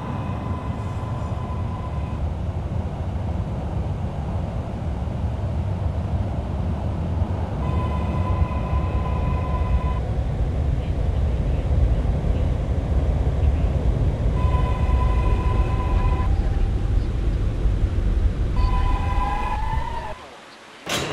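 An R179 subway train in the OpenBVE train simulator, on a Manhattan-bound B local at Fordham Road, rumbles loudly and continuously with repeated tonal chime-like tones, ending with a sharp drop in noise.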